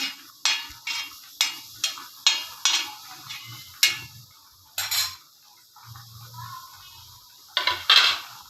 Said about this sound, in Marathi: कांदा पण आता छान परतवून द्यायचा, सोनेरी कलर येऊ द्यायचा।